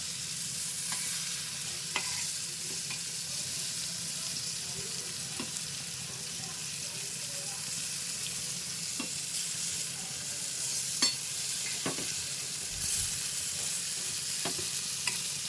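Halwa fish (pomfret) coated in wet masala sizzles steadily in a pan, a continuous close frying hiss with occasional louder spits and pops, no voices.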